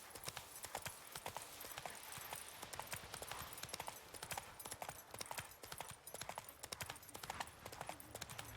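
Geralt's horse Roach gallops in The Witcher game. Fast, steady hoof clip-clops keep going throughout, close but fairly quiet against a faint ambient bed.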